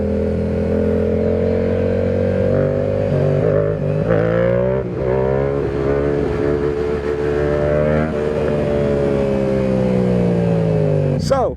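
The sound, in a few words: Yamaha R7 motorcycle engine revving during standing wheelie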